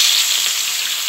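Crab sizzles hard in hot oil for a Kerala-style nadan crab fry. The frying is loud and close, a dense, even hiss that holds steady with no voices.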